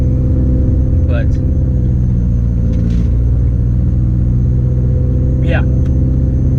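A 500whp Subaru WRX idles with a steady, loud low rumble of engine and exhaust, two brief higher chirps rising over it.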